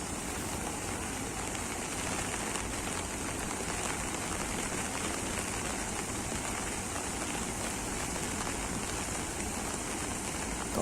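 Heavy monsoon rain pours down steadily in Kota, a dense, unbroken hiss of drops drumming on surfaces that holds at even loudness throughout with no voices.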